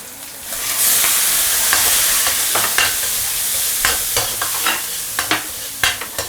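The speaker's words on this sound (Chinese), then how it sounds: "快速给它炒散，好，给它炒香，炒到这种吐油的状态。" Ingredients stir-fried in a hot wok with Huadiao wine, a steady loud sizzle punctuated by repeated sharp scraping and tossing clicks of the spatula, growing more rhythmic toward the end, with no talking.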